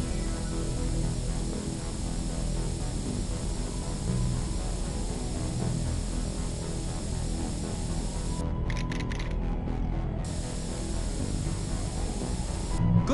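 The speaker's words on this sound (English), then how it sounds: "Good thing I brought some extra spray." Spray paint can hissing steadily in The Warriors video game, a continuous broad hiss running the full length over game background sound, with a brief break in the spray near the end.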